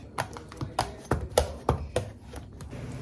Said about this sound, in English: I am going to broil these eggplants. So I need to puncture them so they don't burst